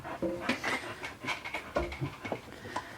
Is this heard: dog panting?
yes